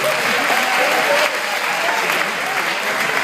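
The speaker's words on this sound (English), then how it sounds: "give a big round of applause for yourself." A high school auditorium crowd at a hypnosis show bursts into loud, close applause, a thick continuous patter of clapping with a few voices mixed in beneath it.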